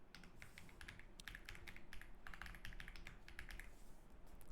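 Quick, irregular tapping of keys on a computer keyboard while text is typed into a chat field, the clicks close and distinct over a low background hum, with no talking.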